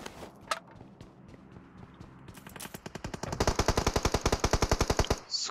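Automatic gunfire in the mobile video game PUBG Mobile, scattered distant shots giving way to a rapid, evenly spaced burst of loud rounds that stops abruptly.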